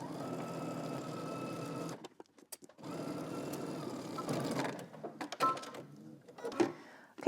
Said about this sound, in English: you're going to sew the other seam the same way